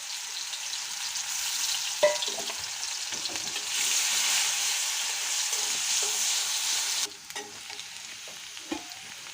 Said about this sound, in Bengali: এই তো আমি কড়াইয়ে তেল দিয়ে দিয়েছি। এখানে আমি দিয়ে দিচ্ছি একটু রসুন।